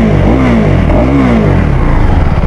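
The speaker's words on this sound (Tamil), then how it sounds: "நம்ம வந்து எக்ஸாஸ்ட் நோட்டை கேட்டுருவோம்." A 2024 KTM Duke 390 single-cylinder motorcycle exhaust revs hard at close range, with two quick throttle blips rising and falling over a loud, steady rumbling idle.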